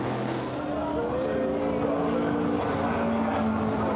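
Steady roar of under-2-litre touring car engines racing at a distance at the Silverstone Classic, a continuous drone with shifting engine tones and no clear pauses.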